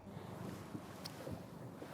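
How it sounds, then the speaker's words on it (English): Wind blows softly and steadily over open water during walleye fishing, a faint low rushing with no voices. "I think the winds are changing, Uncle John."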